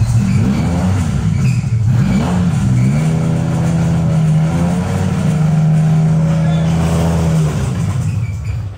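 A failing BMW M5 E60 engine with a suspected oil pan problem runs loud and close, its droning idle rising and falling through revs with harsh rough harmonics, while people talk over it.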